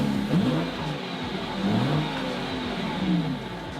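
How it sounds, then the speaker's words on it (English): A V12 car engine starting up and revving, rising and falling in several swells, loud and close, with no speech. "V12 under the hood, and it sounds quite nice when you start it."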